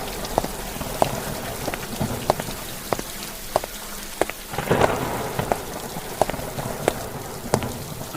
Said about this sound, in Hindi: बारिश बहुत तेज हो रही थी। साथ ही साथ हवाएं भी उतनी ही तेज चल रही थी